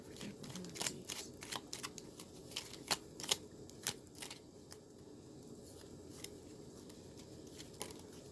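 Tarot cards being pulled and handled from a deck, a string of faint, quick papery flicks and slides close by, clustered in short bursts and then easing off into quiet handling.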